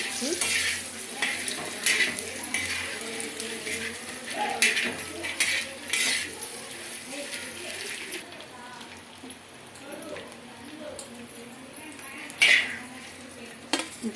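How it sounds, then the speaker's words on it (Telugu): Eggs frying for a dried fish egg curry, a steady sizzle running underneath while a spatula scrapes and clinks against the pan in several sharp bursts, close and fairly loud. "చూడండి ఇలా ఫ్రై కావాలి"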